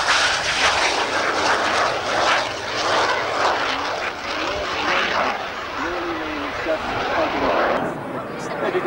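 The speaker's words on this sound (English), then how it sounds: "that's just with the residual thrust out the back of the engine" A BAC 167 Strikemaster jet roars loudly and continuously through an aerobatic U-turn at an air display at Ardmore, Auckland, with broadband engine noise filling the whole stretch and a voice talking over it.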